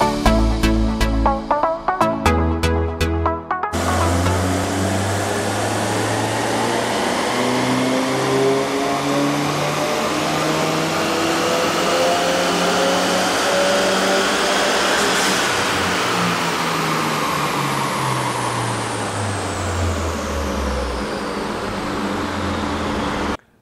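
Manual-transmission Subaru WRX engine revving during custom tuning, a few short blips at first, then a long sustained rev whose pitch climbs, holds and sweeps back down near the end, loud and close.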